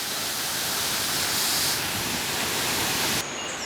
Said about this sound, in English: A lovely waterfall.